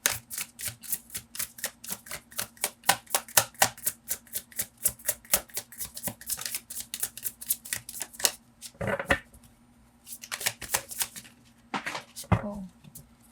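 Tarot cards are shuffled in a fast, even series of crisp riffling clicks and slaps, then a few slower taps and card flips as cards are drawn, close up with no talk.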